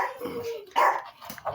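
Dogs bark several times close by, a short run of loud, sharp barks alone, with no talking.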